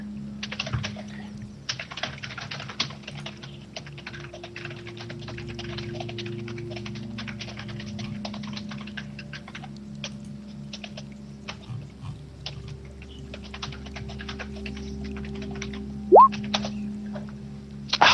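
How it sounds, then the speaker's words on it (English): Fast typing on a computer keyboard, a dense run of light clicking keystrokes over a steady low hum, close and continuous with no talking. "I'm gonna type."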